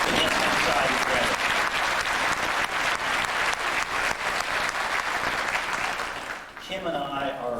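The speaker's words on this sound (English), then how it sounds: "you can clap if you want to" An audience at the opening of a new facility in Oklahoma City applauds loudly and steadily for about six seconds. After a brief dip, voices talk through the tail of the clapping.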